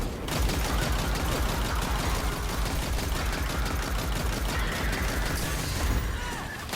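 Rapid machine gun fire in the video game Destiny 2, a dense, continuous stream of loud shots with mechanical clatter lasting throughout, with no voice over it.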